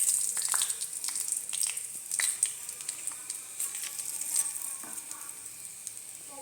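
Chicken pieces fry in hot oil with a close, steady sizzle and crackle, punctuated by occasional stirring clatter and spitting pops.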